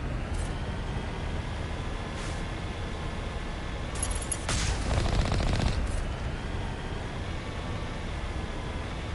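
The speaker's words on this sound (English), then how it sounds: "Who's firing at me?" A short burst of rapid gunfire crackles out of a steady low background hum during Mass Effect gameplay, moderately loud and lasting around two seconds.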